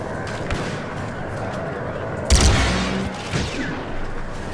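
Blaster fire from Star Wars Battlefront 2 erupts in a loud burst midway, with a few sharp shots following over a busy game background, while a voice talks over it.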